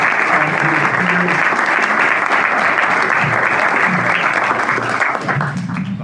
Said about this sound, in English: give a round of applause and appreciation to Roland McElroy